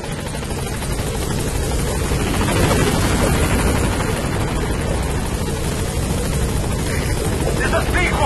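The Pequod helicopter from the Metal Gear Solid V video game approaches a landing zone, a loud, steady rotor roar filling the whole stretch, with a voice speaking over the noise.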